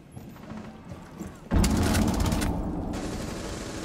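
Hip-fired gunfire in Rainbow Six Siege, a sudden close burst of rapid automatic shots starting abruptly after a quiet stretch and continuing loudly to the end.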